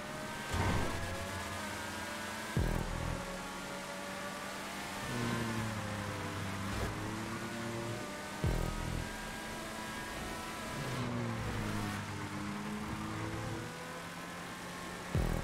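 A car in the racing game GTA V on PS4 revs hard through repeated gear changes, with the engine pitch climbing and then dropping in a steady cycle, loud and continuous and without voices.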